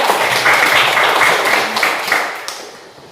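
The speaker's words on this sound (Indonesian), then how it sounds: "kita beri tepuk tangan untuk kelompok 3" Applause for a student group at a classroom presentation session, a loud spell of clapping from a nearby group that thins and fades toward the end.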